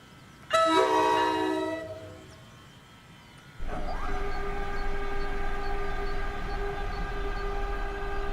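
In the game Train Sim World 6, a high-pitched train horn sounds once, fades, then a locomotive engine starts up and hums steadily with a droning tone.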